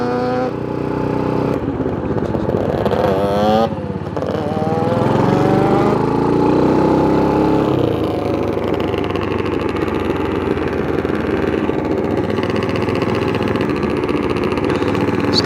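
Custom 600cc enduro motorcycle built from a dirt bike, its single engine revving up and down close by, with rising and falling throttle blips that give way to a steady, buzzing idle.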